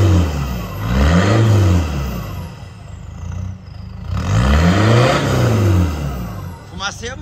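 A Mitsubishi Triton pickup with a 3.2 diesel engine revs loudly and close by in two deep, rising-and-falling bursts with an idle between them, while people talk nearby.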